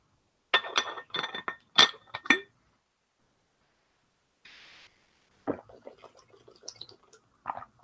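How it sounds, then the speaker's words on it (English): Glass clinking several times in quick succession as water is drunk from it, then a pause, a short hiss and softer clinks and sips, all close and quiet. "guzzle some water"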